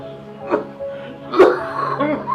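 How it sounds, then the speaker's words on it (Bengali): A man coughs twice, a short rough cough followed about a second later by a stronger hacking one. The throaty, voiced sounds are close and clear in a quiet indoor space. "কাশিটা দিন দিন বাড়তেছে"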